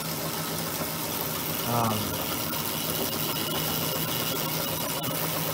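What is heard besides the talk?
electric motor running during an RPM versus voltage demonstration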